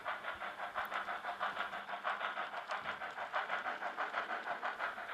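Steady rhythmic digital sound-effect steam chuffing from a small model locomotive, fast even puffs repeating without pause, fairly close and moderately loud with no talking.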